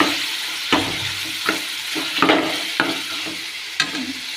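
Ground tomato and onion paste frying in a pan, a constant moderate sizzle broken by several sharp scrapes and stirs of a spoon against the vessel, close-up with no talk.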